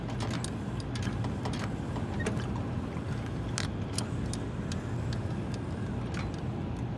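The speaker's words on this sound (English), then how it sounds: "Now we're gonna close the rollers till they're just barely touching." A Clipper roller lacer on a conveyor belt gets its rollers closed until just touching, giving sharp intermittent metallic clicks and ticks over a steady low mechanical rumble, close and moderately loud throughout.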